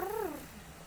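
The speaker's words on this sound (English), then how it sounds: "My cat's going crazy, I'm sorry." A single short, rising-then-falling cat meow sounds close by, followed by faint room quiet.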